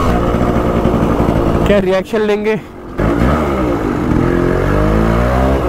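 A loud Yamaha RX-135 two-stroke motorcycle revs close by, its buzzing engine rising and falling through rapid blips with a short break, while someone speaks over it.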